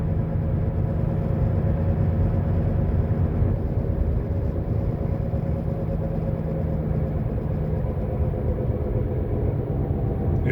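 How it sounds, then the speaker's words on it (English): A 2019 Toyota Corolla with a failing wheel bearing hub gives off a constant low droning rumble, steady and loud from start to finish, with no one speaking. "I have a bad bearing hub. This is the noise, so we have to change the bearing today."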